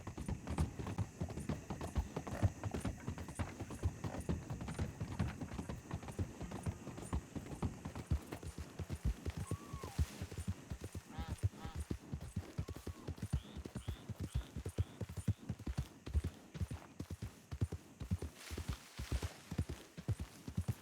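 Steady clip-clop of horse hooves walking at an even pace in Red Dead Redemption 2, quiet and continuous, with a faint whinny partway through.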